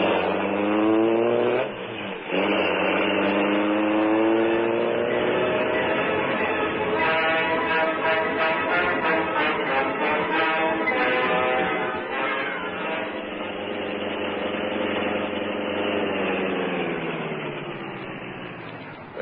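Car engine sound effect from a vintage Green Hornet radio drama: a loud, steady motor drone that rises and churns for about nineteen seconds, heard alone without voices.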